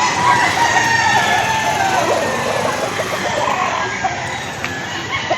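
Roosters crowing over one another at a busy chicken market in Lipa City, Batangas, a steady loud din of overlapping crows and clucks with faint background activity throughout.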